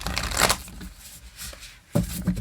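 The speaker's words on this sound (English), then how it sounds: "Let's see if I can get one more shuffle in." A Divine Feminine Oracle card deck gets shuffled by hand in two crisp riffling bursts, close and loud, separated by a quieter pause.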